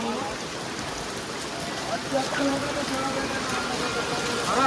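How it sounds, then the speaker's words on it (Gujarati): Rain falling on a hillside while descending the long stone stairway of Girnar, a steady broadband patter throughout with a brief brighter burst near the middle and faint voices underneath. "મિત્રો હવે વરસાદ ચાલુ થઈ ગયો છે"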